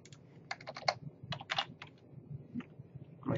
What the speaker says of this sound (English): hit escape from the keyboard